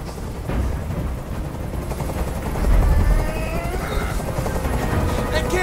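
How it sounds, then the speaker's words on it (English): Steady helicopter rotor drone in the video game Detroit: Become Human, loud and continuous throughout, mixed with game sound effects and a swelling low rumble midway. "Tell that helicopter to get out of here."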